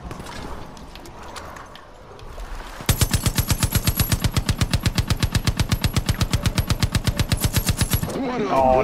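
Light machine gun fire in the shooter game Far Cry 5, a loud sustained burst of rapid, evenly spaced shots lasting about five seconds after quieter game ambience.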